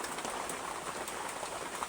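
Soft, steady rainfall hisses throughout, an even wash of drops without any voices.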